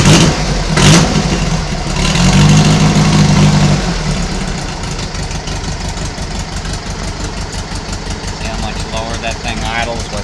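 A Volvo 1800 engine idles at close range with a steady low throb and light knocking, and someone talks over it.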